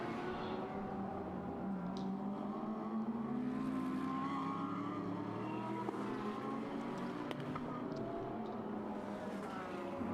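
GT racing cars, including a Lamborghini, circuit Okayama in a GT World Challenge Asia race, engines roaring and shifting continuously as several cars blend into one sustained, fairly loud wash of engine noise.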